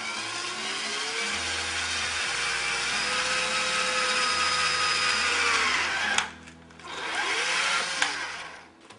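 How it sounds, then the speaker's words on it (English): A power drill with a 1/4-inch bit boring a hole through a drain pipe, a steady close whine running for about six seconds, then a brief stop and a shorter second burst. "And then just go ahead and drill."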